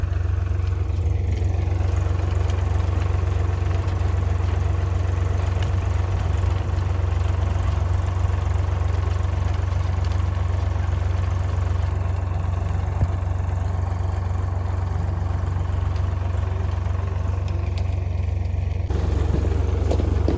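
A tractor engine runs steadily during a potato harvest in a field, a loud, continuous low rumble with faint clatter that holds unbroken and close throughout, with no talking.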